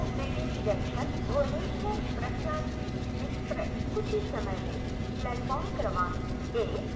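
An old ICF-coach Rajdhani Express rolls along in the MSTS train simulator game, a steady low rumble with rhythmic wheel clatter throughout, under continuous male speech.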